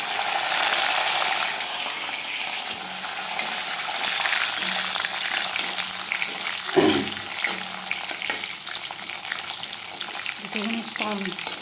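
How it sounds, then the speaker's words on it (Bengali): Cashews and raisins fry in hot oil with garam masala, making a loud, continuous sizzle up close. A sharp clatter of stirring comes near the middle and lighter scrapes follow. No one speaks. "কাজুটা একটু ফ্রাই হবে"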